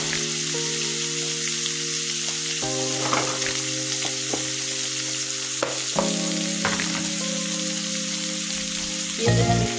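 River fish frying in a pan, a steady loud sizzle and crackle running throughout, with a few light clatters of the spatula and no voices.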